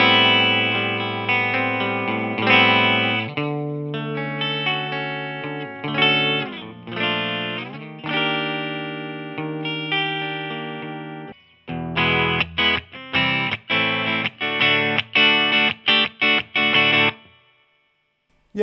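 A Vintage Icon V52 electric guitar on its bridge pickup, played alone through distortion and effects: sustained chords and single notes ring out, then a run of short, punchy staccato chord stabs near the end.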